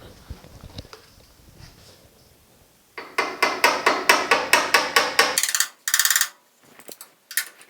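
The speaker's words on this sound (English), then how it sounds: "I'm going to grab the hammer and just tap it flat." A hammer taps rapidly on sheet metal of a 1950 Chevy truck's lower cab patch panel in a quick, steady series of light blows, then a few more scattered taps after a pause.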